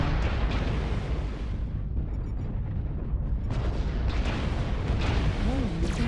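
Missiles explode in the MechWarrior Online video game, with repeated heavy booms and bursts over constant battle noise, and a synthetic voice announcing over the din.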